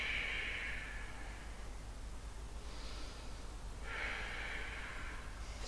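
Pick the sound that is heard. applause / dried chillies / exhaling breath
exhaling breath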